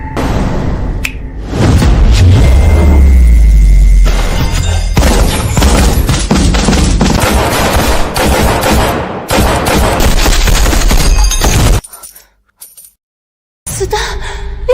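Dense, loud gunfire rattles in rapid bursts for most of the stretch, with heavy thumps and booms mixed in, then cuts out briefly before resuming.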